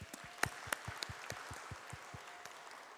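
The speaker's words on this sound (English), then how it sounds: "Let's give them a round of applause" An audience claps in a round of applause at a water process controller event, with many scattered hand claps forming a brisk, moderately distant patter that holds steadily for a few seconds.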